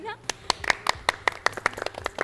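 Hand clapping from a small group, a quick irregular burst of sharp claps running the whole time, close and fairly loud.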